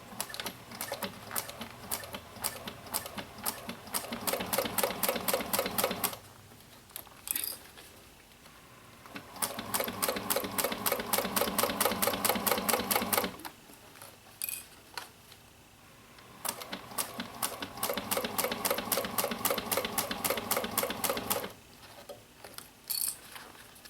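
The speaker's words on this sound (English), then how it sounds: "And then I'm just going to sew all the way across the bottom" Home sewing machine stitching straight across the bottom of an Urban Tote bag, running in three sustained bursts of rapid needle clatter separated by short pauses, close and steady with no talk.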